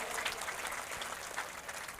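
Political rally crowd in Sheohar, Bihar, applauding to welcome party leaders at a public meeting: steady, moderately distant clapping with a brief voice or two underneath, filling the whole stretch.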